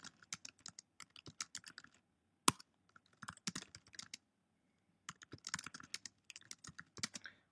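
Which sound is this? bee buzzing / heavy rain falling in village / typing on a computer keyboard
typing on a computer keyboard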